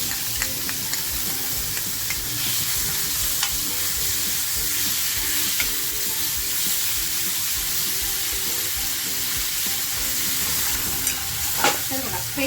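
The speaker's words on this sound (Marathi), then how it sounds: "आता जी आपण अद्रक लसूण कोथिंबीर मिरचीची पेस्ट तयार करून घेतली ती अगोदर तेलात टाकते" Ginger, garlic, coriander and chili paste frying in hot oil, a loud continuous sizzle and hiss with occasional stirring scrapes, heard up close without speech.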